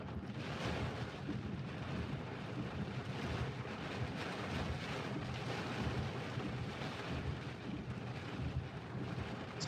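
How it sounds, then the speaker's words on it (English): Heavy rain and gusty wind roar steadily through a Kansas storm, a dense, continuous wash of noise with buffeting gusts and no pauses, close and loud throughout. "A lot of rain in the storm."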